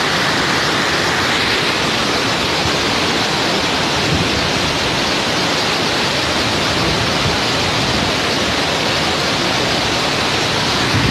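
Cachoeira do Pinga waterfall in Portalegre, Rio Grande do Norte, swollen after rain, roars steadily and loudly throughout, a dense unbroken rush of falling water with no pauses or other sounds.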